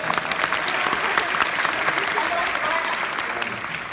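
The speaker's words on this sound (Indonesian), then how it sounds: "Kita kasih tepuk tangan dong untuk Kang Emil." A live stage-show audience in the Netherlands breaks into sustained applause for Kang Emil, many hands clapping at once with some crowd noise and voices mixed in.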